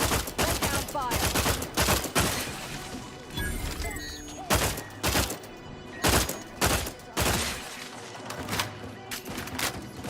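Dense bursts of gunfire in the Outer Worlds 2 video game, rapid volleys and single heavy shots crackling over music and other sound effects, loud and close with brief lulls between exchanges.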